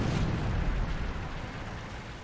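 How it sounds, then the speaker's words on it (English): Rockets burst in heavy, booming explosions in War Thunder, a loud rumbling blast at the start that rolls off into a sustained low roar. "Now we got rockets flying at us."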